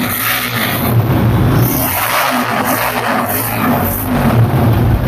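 TVS Apache RTR motorcycle, white and second-hand, with its engine running: a loud, steady close-up drone that swells slightly in pulses, with no talk over it.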